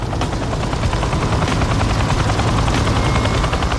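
Steady, loud Super Puma helicopter rotor chop with a constant engine roar, continuous throughout and close by.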